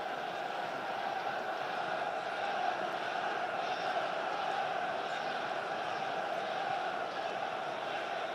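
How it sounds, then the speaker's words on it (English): Football crowd at a Sunderland AFC home match against Cardiff City, encouraging the team with a steady, distant murmur of voices and faint chanting that holds evenly for several seconds. "Crowd encouraging them."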